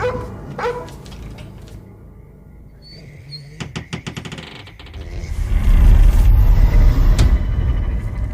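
A dog barks and yelps several times amid a loud, dramatic horror film trailer score set in a haunted forest, with booming hits and swelling music building over the barks.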